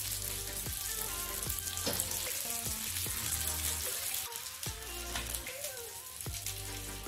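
Fish frying in coconut oil in a pan, a steady crackling sizzle with scattered pops that runs continuously, mixed with tonal background sounds.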